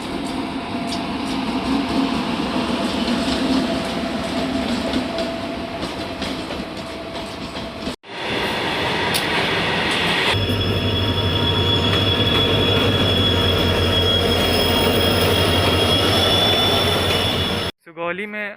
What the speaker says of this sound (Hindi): हमारी ट्रेन प्लेटफॉर्म नंबर 2 पे आ रही है